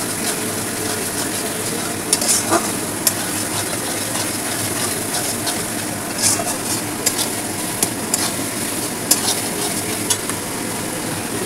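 Mutton fries in a pan with yogurt and turmeric, stirred steadily in a home kitchen. A continuous sizzle runs throughout, with scraping clicks and knocks of the spoon against the pot and a faint voice in the background.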